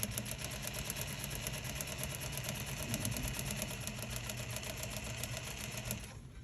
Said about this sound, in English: I'm just going to try to keep that even as I sew all the way down to the bottom